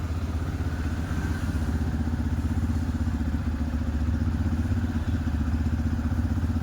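An engine runs at a steady fast idle of about 1500 RPM, higher than it should, with a constant dense rumble and fine rhythmic clatter heard close up and unbroken throughout.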